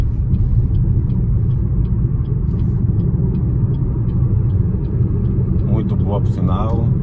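A BYD Dolphin Mini electric car pulls off from a standstill in Eco mode, giving a steady low road rumble with faint whine and ticking; someone talks over it near the end.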